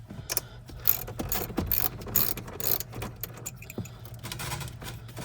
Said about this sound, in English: So we got to take off these bolts here.